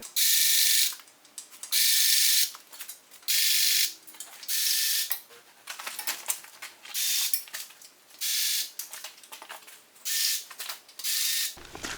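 Grease gun being pumped on a strip till rig in a farm shop, giving repeated short bursts of ratcheting, squeaky mechanical clicking in an uneven rhythm, close and fairly loud, with no talk.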